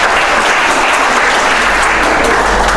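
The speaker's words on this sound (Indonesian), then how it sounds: "Jadi tapi kita tepuk tangan luar biasa nih Ibu Palupi ya." Steady audience applause fills the room for a woman presenter at a Catholic catechesis class evaluation, a dense continuous clapping held at even loudness throughout with no voices over it.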